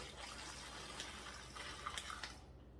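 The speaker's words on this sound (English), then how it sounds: "There goes more mixture. As we pour more, maybe get to this side a little bit." Brine mixture for a turkey being poured into a bucket, a steady splashing and trickling stream of liquid that continues for several seconds and then stops abruptly.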